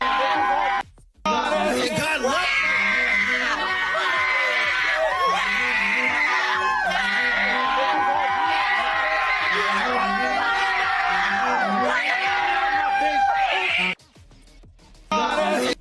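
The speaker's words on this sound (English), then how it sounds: "Demon-possessed woman screams at the preacher." A woman screams and shrieks loudly and repeatedly at a preacher, her raw, strained voice rising and breaking across a sustained outburst, close and dominant, with brief drops to near silence at the start and end.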